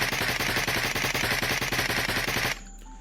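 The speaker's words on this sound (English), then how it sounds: "So, if I shoot a whole mag out," A full magazine emptied in an Unreal Engine 5 first-person shooter, loud rapid automatic gunshots in an even, fast rhythm for about two and a half seconds, then an abrupt stop leaving faint room tone.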